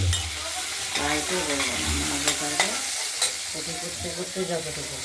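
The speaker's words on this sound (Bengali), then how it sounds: "ছোট ছোট করে কাটা আলুগুলোকে আমরা আগে প্রথমে ভেজে নেব" Small diced potato pieces sizzle and fry in a hot wok, a steady crackling hiss under repeated stirring scrapes, with no one talking.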